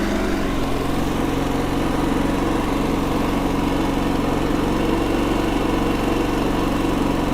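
A Predator 4400 watt inverter generator running in eco mode gives a steady, even engine drone with a broad hum and no change across the stretch, close by and with no voices.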